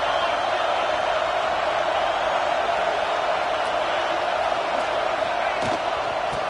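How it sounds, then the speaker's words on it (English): A football stadium crowd roars against the offense in a college football video game: a dense, steady wall of crowd noise holds at constant loudness the whole time, with only faint scattered thumps beneath it. "This crowd trying to make life miserable for this offense."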